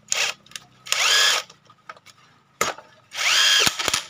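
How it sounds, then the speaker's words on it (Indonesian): An impact wrench tightens a bolt on an engine during repair of a fault where oil does not reach the cylinder head, firing in two loud, close hammering bursts with quieter clicks and handling noises between them. "Percepat saja, kita gunakan impact."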